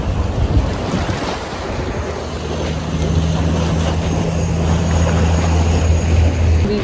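On the Chao Phraya River at the Wat Kaew Fa Chulamanee boat pier, a boat engine hums low and steady beneath gusting wind and lapping water, growing slightly louder toward the end.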